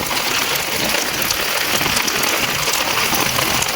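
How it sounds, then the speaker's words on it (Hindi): Heavy rain pours steadily on a road in Rampur, a dense continuous hiss of water with no break across the whole stretch, loud and close. "बारिश ही बारिश बारिश ही बारिश।"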